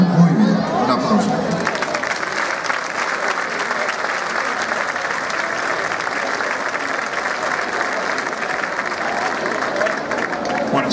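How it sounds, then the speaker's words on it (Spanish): Concert audience applauding at a band awards ceremony, a sustained, even roar of many clapping hands with some crowd chatter mixed in, steady and full for the whole stretch. "Un aplauso."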